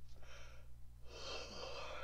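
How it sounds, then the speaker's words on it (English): A person yawns with two long, breathy exhalations, close and quiet over a low steady hum, with no speech. "I'm really sorry that I'm yawning."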